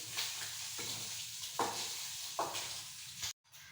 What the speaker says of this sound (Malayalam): ഈ ചട്ടിയിലേക്ക് മാവ് ഒഴിച്ചു കൊടുക്കാം.